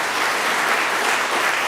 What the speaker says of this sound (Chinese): 咱拍婆啊，鼓掌哈